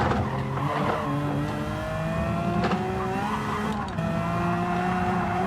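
A Gran Turismo racing car engine drones steadily while braking and shifting down to fourth gear, the pitch stepping as revs change, a continuous close engine tone with no talk.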